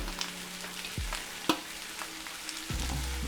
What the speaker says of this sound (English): So I'm going to basically saute them down real quick